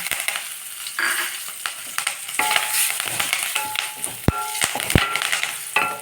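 Mustard seeds, chilies and curry leaves temper in hot oil, giving a loud, dense crackle and spatter with sharp pops and spoon knocks against the pan, close and continuous.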